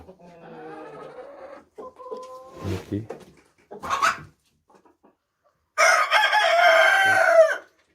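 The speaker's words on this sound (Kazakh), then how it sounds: "Тауықтарымыз айқайлап жүр." Chickens kept through winter call out in short bursts, with harmonic clucks and squawks followed by one long, loud crow, all fairly near with quiet gaps between calls.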